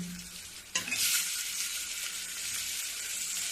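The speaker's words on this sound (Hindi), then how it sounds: "अब ये टमाटर को भी मैं थोड़ी देर भूनूंगी" Onion and tomato frying in a pan, a steady bright sizzle with a sharp burst of hissing after a stir, settling into continuous crackle.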